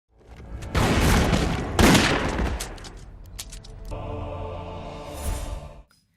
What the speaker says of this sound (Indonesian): Hingga pada akhirnya mereka saling baku tembak.